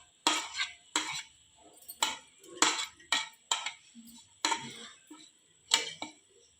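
A spoon clinks and scrapes against a bowl while cucumber, onion, chilli and coriander salad is mixed: about ten sharp, close knocks in an irregular rhythm, with quiet gaps between.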